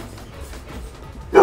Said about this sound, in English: Sorry about the dog, guys.